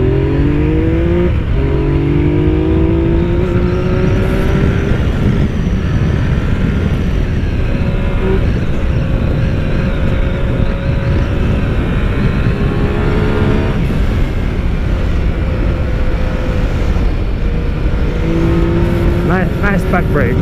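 A 2016 Yamaha FJ-09 motorcycle is ridden hard with traction control on, its engine loud and close as it accelerates through rising, falling revs and gear changes against steady wind roar.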